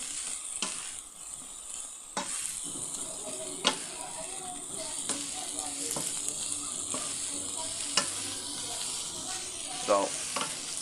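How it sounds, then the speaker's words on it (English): Food, likely Cajun chicken, stirred in a hot, uncovered pan: a steady sizzle runs throughout, broken by repeated sharp scrapes and knocks of the utensil against the pan every second or two. "We're just going to keep stirring and stirring and stirring."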